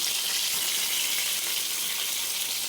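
Prawns frying in a pan for colour, lightly salted and without turmeric, giving a steady, dense hiss of sizzling oil close up throughout with no voices.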